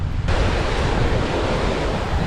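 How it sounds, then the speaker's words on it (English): Wind blowing over choppy waves at a beach at Fort Zachary Taylor in Key West, a loud continuous rushing roar of surf and wind buffeting the microphone, with no voices. "a little windy today, so you're seeing a little more chop than you would normally see"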